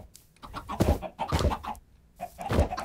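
Chickens cluck in a Minecraft world, several short bursts of clucking in uneven rhythm, close and fairly clear with no talk over them.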